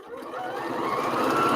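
Brother sewing machine stitching a seam on a pocket grocery bag, a steady mechanical whir that builds slightly in loudness and runs continuously and close throughout.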